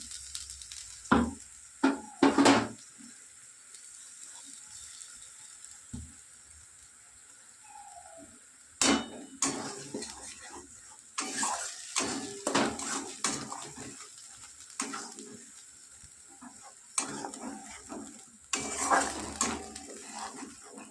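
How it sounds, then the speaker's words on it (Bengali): Spice paste with chilli sautéed in hot oil in a pan for a raw prawn curry, a low steady sizzle under repeated sharp clatters and scrapes of a metal spoon against the pan, heard close up with no voices. "একসঙ্গে কষে নেবো মশলাটা"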